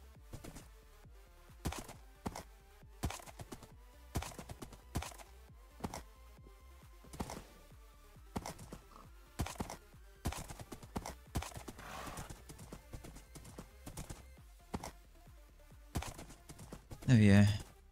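Minecraft horse hooves clip-clop in a steady, fairly close rhythm that runs the whole time, with a horse whinny near the end and occasional talk over it.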